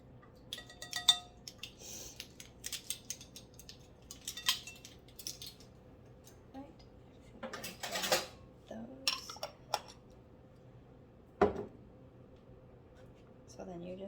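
Spoon scraping and clinking in a mixing bowl while baking ingredients are stirred together, with scattered light taps and clinks among quieter stretches and some speech at times.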